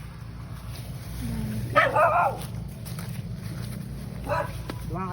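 A dog on a small rural farm garden gives a couple of short, sharp barks and yips at moderate distance, separated by a pause, against a low steady outdoor hum.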